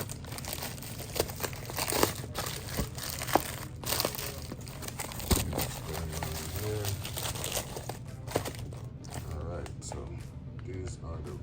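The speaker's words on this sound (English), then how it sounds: "unwrap it." Plastic packaging for RimThin LED lights meant for a 2008 Suzuki SX4 crinkles and tears as it is unwrapped, with scattered close crackles and rustles running throughout and a voice talking over them.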